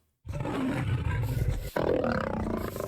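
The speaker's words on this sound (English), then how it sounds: "And then we got jaguar. Oh, that was a nice roar." A jaguar from the BiomeCraft add-on for Minecraft Bedrock lets out a loud, close, rasping roar that starts abruptly, breaks briefly midway, then carries on gruffly to the end.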